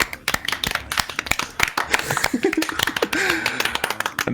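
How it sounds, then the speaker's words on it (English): Sparse, uneven hand claps from a few people during a live game stream, tapping out irregularly for several seconds while voices talk and laugh over them. "We can stop with the applause now."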